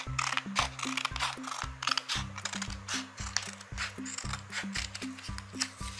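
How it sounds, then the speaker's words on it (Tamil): Scissors cutting paper along a line, with quick rhythmic snipping clicks repeating steadily under a loud, plucky background tune. "ஸோ ஓகே, இந்த லைனுக்கு ஏற்ற மாதிரி அப்படியே அழகாக கட் பண்ணிக்கலாம்."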